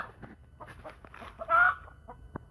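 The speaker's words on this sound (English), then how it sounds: "This chicken was sleeping here, Nick." A chicken sleeping in a spot clucks in a few soft, scattered calls, with one louder squawk-like burst in the middle, fairly close and otherwise alone.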